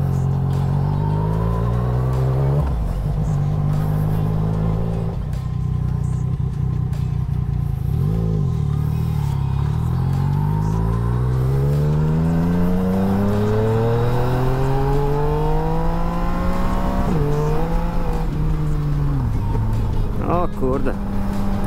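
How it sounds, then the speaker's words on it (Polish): A big Yamaha MT motorcycle revs while being ridden, with its engine pitch climbing and dropping in long, smooth sweeps. The engine is loud and close, with a constant rush of wind and road noise underneath. "Dawno nie jeździłem na dużym motocyklu."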